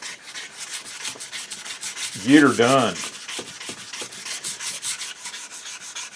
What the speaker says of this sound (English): I use the sanding block as much as I can because it helps maintain a fair surface